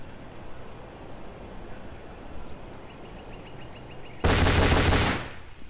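Gunfire in Counter-Strike: Source: a short, loud burst of shots erupts late and lasts about a second, standing out sharply from a quiet background with faint game beeps and ticking.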